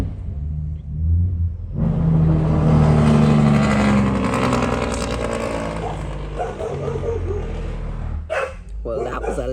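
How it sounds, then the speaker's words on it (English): A loud truck rumbles past close by, its engine roar swelling and then fading, while a dog barks and a person talks over it. "Well, that was a loud truck."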